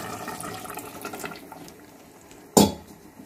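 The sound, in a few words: water poured into cooking broad bean curry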